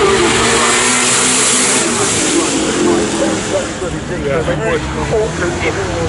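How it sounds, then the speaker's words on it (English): A racing car engine roars loudly at a Goodwood Festival of Speed shootout, revving and surging through a continuous, close pass while a commentator talks over it. "this car that makes a great noise is also a great sight"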